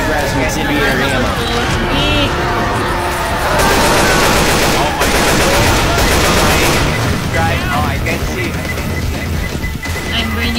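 Rapid gunfire from incendiary ammunition in a video game, bursts of automatic shots and crashing impacts running throughout, with players talking and shouting over the shooting.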